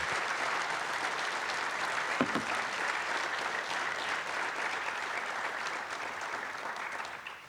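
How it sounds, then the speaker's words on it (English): Sustained applause from a seminar audience sending off the speakers, many hands clapping steadily at moderate distance throughout, with a brief louder clap burst near the middle before it gradually thins at the end. "I hope tonight that you will send them off with a rounding applause for sharing some of their stories with us today."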